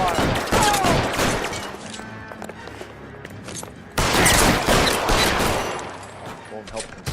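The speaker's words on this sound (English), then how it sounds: "I'll lay down some suppression fire." Dense, sustained gunfire from the L.A. Noire video game, loud volleys of overlapping shots laying down suppression fire, dipping briefly before a fresh burst roars back, with a voice speaking under the barrage.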